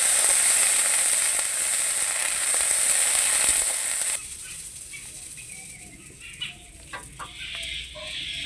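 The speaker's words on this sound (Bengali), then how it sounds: "মাখনা ভাজা কড়াইতেই আমি এখন কাজু কিশমিশ 1 চামচ ঘি দিয়ে ভেজে নেব।" Cashews and raisins frying in a spoonful of ghee in a kadai that was just used for roasting makhana, for a payesh. A loud, steady sizzle fills the first four seconds, then falls to a softer crackle with scattered pops.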